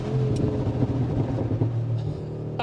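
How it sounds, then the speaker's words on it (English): A 700-horsepower Brabus G-Class G Wagon, based on the G63 AMG, gives a continuous deep engine rumble with scattered faint pops and crackles from the exhaust. "it doesn't stop popping and banging, it's just constantly popping and banging"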